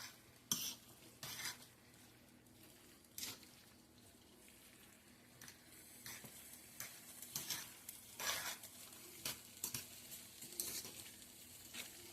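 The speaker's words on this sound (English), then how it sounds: "Might be able to hear it cooking" Hot dog chili with peppers and onions cooks in a pot. A faint, low sizzle sits under intermittent scraping, spoon clinks and stirring knocks against the pot.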